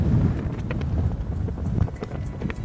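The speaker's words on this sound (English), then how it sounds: "We got some big gusts of wind here." Blustery wind buffets close by on a golf course, a rough low roar that swells and dips in gusts, with faint clicks and taps scattered through it.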